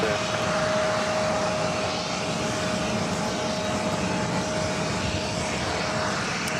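Brand-new Airbus A220-300 departs JFK bound for Portland, Maine: a continuous, loud jet engine roar with a steady high whine running through it, no voices.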